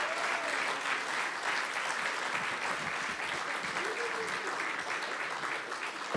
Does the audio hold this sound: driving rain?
no